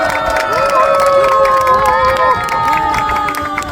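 A crowd at an outdoor rally outside the Supreme Court over an election lawsuit claps and cheers loudly. Shouting voices and the sound of a crowd are mixed into the clapping.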